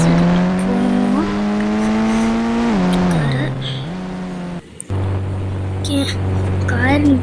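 A car driving to and from an airport, its engine a steady harmonic drone that shifts pitch as speed changes, with a brief dropout midway, while people talk over it throughout.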